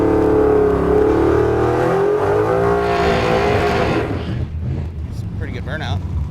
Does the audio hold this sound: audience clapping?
no